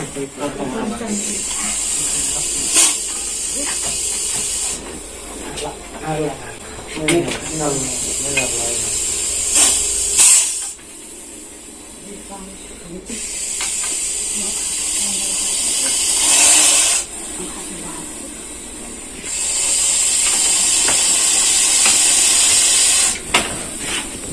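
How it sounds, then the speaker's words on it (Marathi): A pressure cooker whistle hisses steam in several loud, sustained high bursts, with people talking intermittently in between. "कुकरची शिट्टीचा आवाज आहे तिचा"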